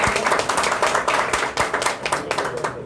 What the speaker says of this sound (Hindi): अपने सबके लिए एक बार तालियां बजा दो